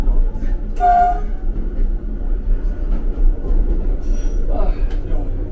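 A train on an Austrian railway rolls steadily along close by, passing gardens, with a low continuous rumble, a brief horn-like tone near the start and a faint wheel squeal later.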